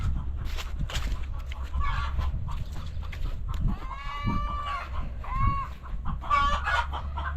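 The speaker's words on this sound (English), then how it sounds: "You hear them crazy hens?" Backyard hens cluck and squawk continuously at close range, with rising, drawn-out calls layered over a steady low background hum.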